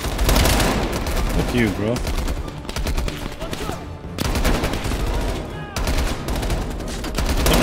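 Rapid automatic gunfire in Call of Duty Black Ops Cold War during a realism campaign mission, loud sustained bursts broken by short pauses, with someone talking briefly over it.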